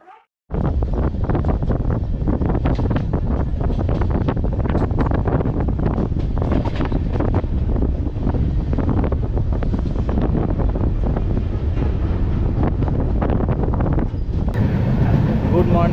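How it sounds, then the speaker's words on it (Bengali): The Darjeeling Mail passenger train rolling into Kishanganj station, heard from on board as a loud, continuous rumble and rush with heavy wind buffeting, steady throughout after a brief quiet start. "এখন কিষানগঞ্জে ট্রেন ঢুকছে"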